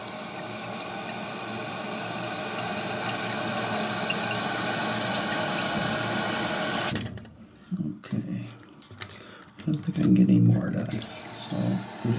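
A toilet tank refills through its float valve with a loud, steady rushing hiss that cuts off abruptly as the water shuts off, followed by someone talking over faint drips and handling noises.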